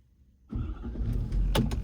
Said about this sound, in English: Now, we're going to do one more startup test and see what it does, see if it works. So truck starting.